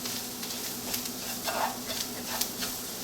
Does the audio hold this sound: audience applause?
no